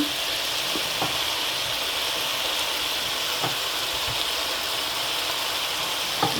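Chicken curry frying with Jaffna chili powder gives a loud, even sizzle that holds steady from start to finish, with a few faint clicks of stirring and no voices.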